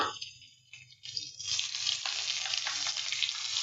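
Ginger paste added to hot oil in a pan with chopped green chilli: a quiet moment, then a sizzle that swells and holds as a steady close hiss.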